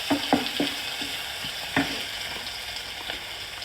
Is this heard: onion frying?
yes